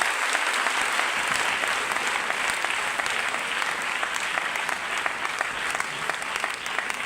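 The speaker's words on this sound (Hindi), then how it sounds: "एक बार रियाज सर के लिए जोरदार ताली होना चाहिए दोस्तों।" Steady, loud applause fills a meeting hall, many hands clapping continuously for about seven seconds without a break.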